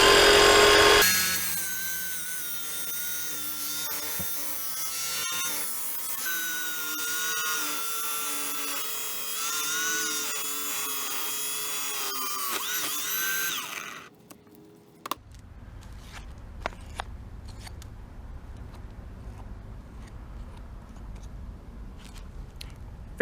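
Porter Cable 20V cordless tile saw cutting backsplash tile, a loud sustained high-pitched whine with a grinding edge for about fourteen seconds before cutting off, followed by quieter handling clunks.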